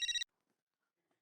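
A phone ringtone for an incoming call, a brief bright electronic trill of rapid warbling beeps lasting a fraction of a second, then silence.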